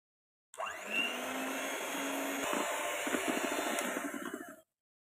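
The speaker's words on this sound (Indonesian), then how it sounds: "lalu ini kita mixer dengan kecepatan paling rendah" An electric hand mixer beats marble brownie batter at its lowest speed. It gives a steady, close whirring drone for about four seconds, starting and stopping abruptly, with no voices.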